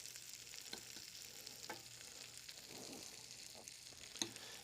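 Olive oil and a teaspoon of butter sizzling in a warming pan, a faint, steady hiss with soft scattered crackles and a small tap, close by with no talk.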